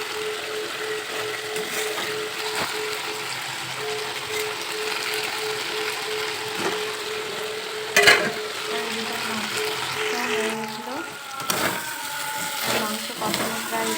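Potatoes go into a chicken curry in a pan, with a steady sizzle and scraping stirring sounds, a sharp clatter partway through, then more spoon and pan knocks.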